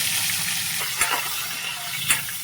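Onions frying in hot oil with mustard seeds and cumin for a brinjal curd curry, giving a steady close sizzle broken by two sharp scrapes of a spoon stirring the pan.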